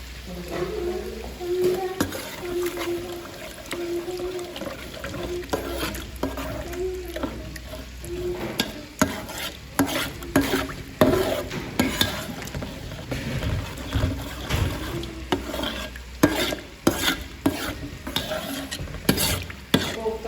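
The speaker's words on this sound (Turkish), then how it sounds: "Şimdi güzelce kızartacağız." Paste sizzles and fries in hot oil while a spoon stirs and scrapes the pan steadily, with irregular clatters throughout.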